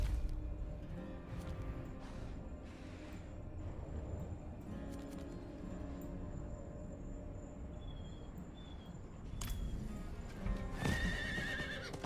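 A horse in Diablo IV trots along with steady clip-clop hoofbeats amid game ambience, then gives a loud whinnying neigh toward the end, with no talking.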